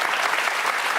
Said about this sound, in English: So that gets a big hand from the crowd.